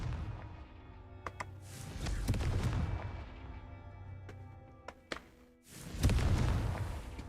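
Fire-spell blasts in the Hogwarts Legacy video game: several heavy booming explosions with sharp cracks, rumbling low thuds rising and fading, then a final big burst near the end, moderately quiet overall.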